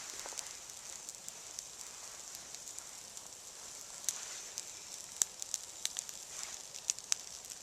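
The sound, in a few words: campfire burning with wet kindling added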